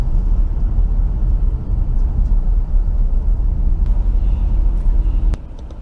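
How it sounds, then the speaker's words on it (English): An old dump truck drags a stuck wagon out of deep snow, its heavy diesel engine rumbling steadily and loudly, with a sharp click near the end before the noise drops slightly. "they dragged him out with this old dump truck"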